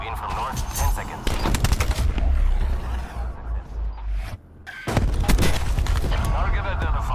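Heavy 30 mm aircraft cannon fire in a video game: loud, dense rolling bursts of gunfire with booming low rumble, a brief lull near the middle, then another sustained burst, with radio-style voices talking throughout.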